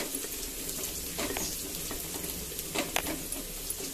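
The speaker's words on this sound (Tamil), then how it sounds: "பருப்பு ஆட் பண்ணிட்டு நல்லா mix பண்ணி விட்டுறலாங்க" Soft scraping and clinking of a spoon stirring lentils and peepal leaves in a pan, with a low steady sizzle underneath and a few sharper knocks; no voices.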